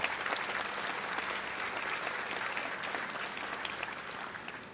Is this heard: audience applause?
yes